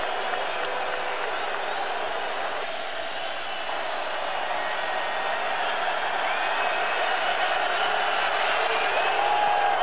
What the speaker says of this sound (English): Kentucky crowd getting into this one here